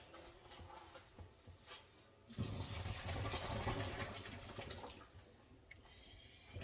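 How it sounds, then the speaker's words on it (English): Water is poured out in a steady splashing gush for a few seconds, following quieter handling noises, then trickles away. "I'm going to go ahead and dump this water."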